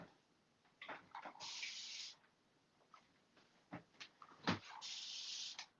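Several short hissing sprays of water from a spray bottle onto a canvas, two longer bursts among quick ones, with light taps and handling noises in a quiet room.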